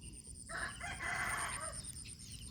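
A rooster gives a single drawn-out crow lasting about a second, moderately distant, over a steady background hiss.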